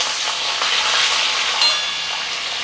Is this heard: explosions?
no